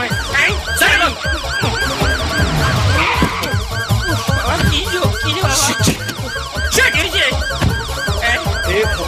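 A police car siren wails in a repeating up-and-down pattern throughout a film scene, loud and close, with road and engine noise and some voices under it.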